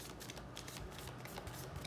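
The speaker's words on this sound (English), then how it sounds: "Let's do one more shuffle, please." Tarot cards being shuffled by hand: soft, quick riffling and sliding of the deck in a brief, quiet burst of papery flutters.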